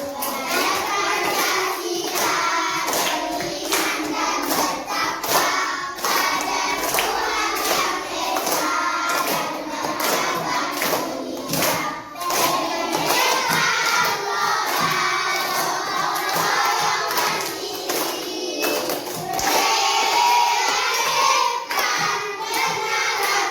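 Schoolchildren perform a rhythmic Pancasila clapping chant, a crowd of hands clapping in patterned bursts with children's voices shouting along, loud and close throughout.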